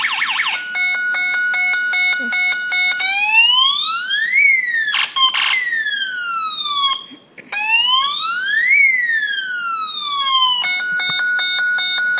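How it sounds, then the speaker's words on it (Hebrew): An electronic siren rising and falling in long sweeping wails, alternating with steady stepped electronic tones, loud and close, with a brief gap midway. "סירנה."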